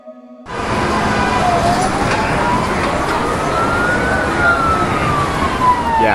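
A wailing siren sweeps up and down over steady road traffic noise, loud and close, with a busy urban background.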